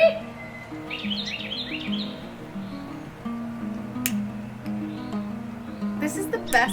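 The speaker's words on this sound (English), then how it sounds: "The birds, they're so glorious." Birds chirping outdoors at sunset during an Easter alfresco dinner, with light, scattered tweets rising above a steady background of low, continuous sound.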